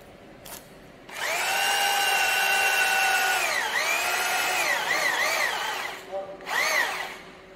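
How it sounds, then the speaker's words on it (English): A power drill bores anchor holes for a commercial washing machine platform, a loud close whine held for several seconds with the pitch dipping and rising as it bites, then slowing and revving briefly before stopping. "So after drilling the holes, clean it and put the capsules into the holes."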